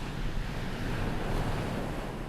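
Ocean waves surging onto a sandbar on the eroding Odisha coast in India, a steady, dense roar of surf with wind noise and no voices.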